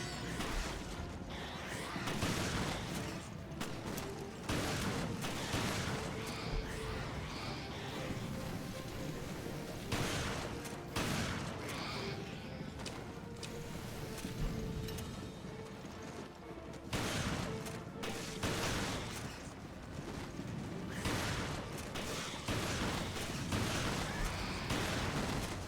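Shotgun blasts and gunfire in the survival-horror game Resident Evil Revelations, dense bursts of shots over a constant busy game soundtrack, with loud impacts recurring every few seconds.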